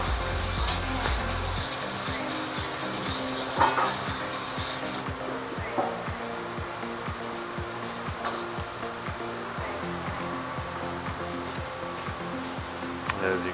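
A Barr framing chisel's back rubbed across a sharpening stone gives a steady abrasive scraping, with rhythmic strokes and faint clicks repeating close by throughout.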